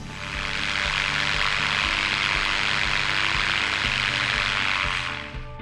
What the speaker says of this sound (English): we stick the motor on our back and we'll do like a thrust test. Just run it up, get it warm